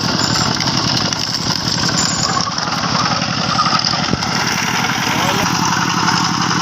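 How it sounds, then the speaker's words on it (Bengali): An engine-driven sugarcane crushing machine extracts juice with a steady, rapid mechanical chugging. The rumble is loud and close, and it runs continuously for the whole stretch. "আর এই মেশিনটা দিয়ে আখের রসগুলো বের করছে"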